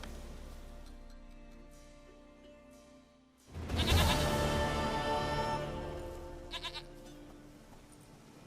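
In The Witcher 3 video game, a goat bleats loudly and close up, a wavering cry that rises suddenly after a quieter ambient stretch, with shorter bleats following.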